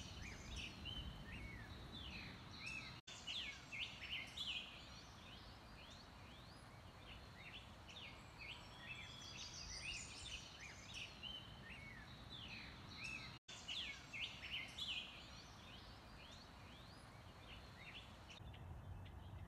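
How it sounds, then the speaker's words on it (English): Many birds chirp and sing in scattered bursts in oak woodland along the Carmel River over a faint, steady outdoor background, calls coming from various distances. "just to see and listen to the sounds of the birds"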